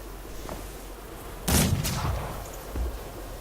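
Gunshots in Mordheim: City of the Damned: a sharp, loud shot followed quickly by a second, each with a booming low tail, then a fainter thump, against quiet background.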